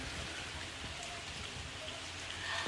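Steady rain falls outside a window in Kolkata the day after Cyclone Remal, a dense, even hiss of drops on surfaces that continues throughout, moderately loud with a few faint knocks nearby.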